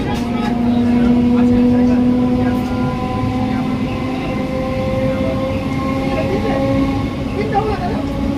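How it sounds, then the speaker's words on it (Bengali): A Goghat local train pulls into Bali station near Howrah, with a loud, continuous rumble of the carriages and a sustained metallic whine and squeal over the top. "আমাদের ট্রেন এসে পৌঁছালো"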